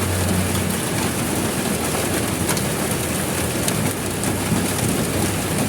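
Steady, dense rainfall hisses continuously at a constant level, with no voices.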